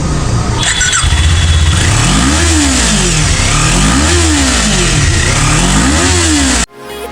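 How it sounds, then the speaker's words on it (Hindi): A vehicle engine with its stock exhaust, no aftermarket pipe fitted, revs loudly up and down in three smooth rising-and-falling sweeps over a steady idle, close by, before cutting off abruptly at the end. "ये साउंड एग्जॉस्ट तो नहीं लगा हुआ, जो भी साउंड है सुना देता हूँ"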